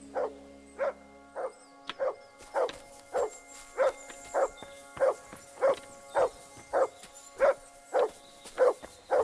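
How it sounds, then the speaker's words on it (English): A dog barks repeatedly in the video game Kingdom Come: Deliverance II, a steady, even rhythm of about a dozen sharp barks, with a faint electronic hum underneath and no talking. "Why is Matt barking again?"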